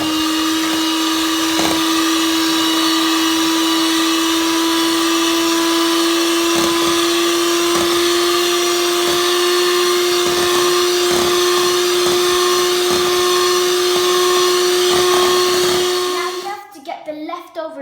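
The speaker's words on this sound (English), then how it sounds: "Now let's mix the egg whites." An electric hand mixer whips egg whites for tiramisu, a steady loud motor whine held for about sixteen seconds with faint rhythmic knocks of the beaters against the bowl, then stops abruptly.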